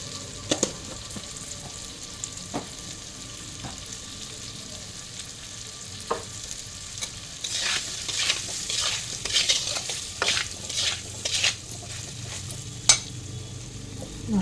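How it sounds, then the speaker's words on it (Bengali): Ground cumin and coriander masala sautéing in a pan, a soft steady sizzle with scattered clinks of a spoon, then a burst of louder stirring and crackling toward the end, close and without talk. "মশলাটা কষানোর সময় সামান্য একটু গরম জল দিয়ে দিলাম।"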